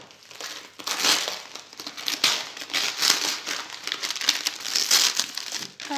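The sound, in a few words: kraft paper packaging being unwrapped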